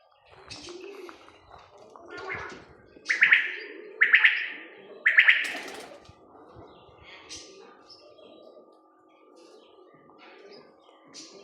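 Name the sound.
pigeons cooing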